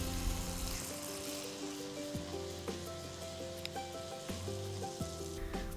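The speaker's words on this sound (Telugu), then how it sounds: "పూర్ణం ఉండల్ని తీసుకొని వాటిని పిండిలో అన్ని వైపుల కోట్ అయ్యేట్టు ముంచి వేడి నూనెలో నెమ్మదిగా వేసుకోవాలి" Batter-dipped poornam balls, a Sankranthi sweet, fry gently in hot oil with a soft, continuous sizzle and scattered light pops, fairly quiet and close, no talking.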